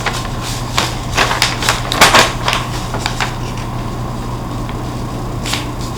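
Paper being folded in half and then the other way for a mandala, giving a run of crisp creases and rustles, close and moderately loud, with several sharper snaps clustered together and quieter pauses between them.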